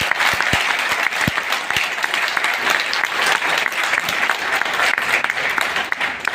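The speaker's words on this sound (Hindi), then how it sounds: "तो जोरदार तालियां प्लीज" A crowd at a farming and health event in India gives loud, sustained applause, a dense wash of many hands clapping at once with a few sharper nearby claps standing out.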